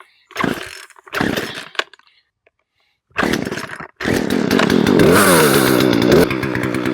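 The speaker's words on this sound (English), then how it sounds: "I believe this chainsaw will be more than fine to actually cut through that." A chainsaw revs in two short bursts, pauses, then roars steadily as it bites into wood, loud and close, with the engine pitch shifting under load.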